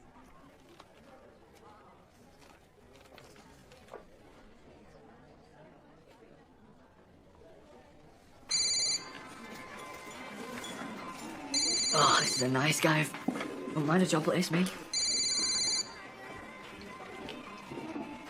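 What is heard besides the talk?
telephone ringing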